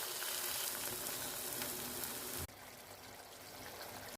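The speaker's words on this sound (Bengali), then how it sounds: "এর মধ্যে আমি অল্প জল অ্যাড করে দেবো।" Eggplant masala for begun chochchori fries in a pan with a loud, steady sizzle, which suddenly drops and changes texture when a little water is added, then keeps bubbling and hissing.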